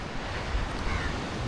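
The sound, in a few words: ocean waves on the beach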